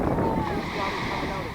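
Ocean waves wash onto a Cape Cod beach at Chapin Beach as the tide pushes in, a steady near roar of surf mixed with wind buffeting the microphone.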